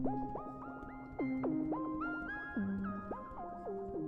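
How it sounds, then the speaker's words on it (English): Vectra synthesizer patch run through tape delay and ultraverb, a gliding melodic line of bright, harmonic-rich notes with repeats and reverb trails overlapping each other, up close with no voices. "But this is with tape delay and ultraverb."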